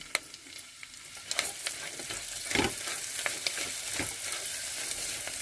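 Garlic, green chillies and onion sizzle and fry in a pan for biranji rice, a moderate crackling hiss with stirring scrapes and small pops, close and steady with no talking.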